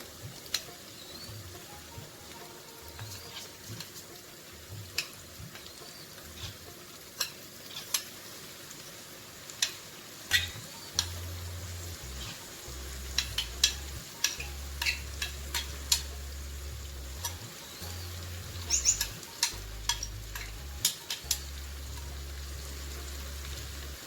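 Chopped onions fry in a pan, a faint crackling sizzle with scattered pops and stirring knocks over a low rumble, with no voices.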